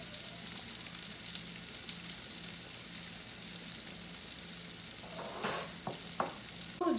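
Salmon fillet frying in a pan, a steady close sizzle that runs the whole time, with a few brief clicks and scrapes near the end.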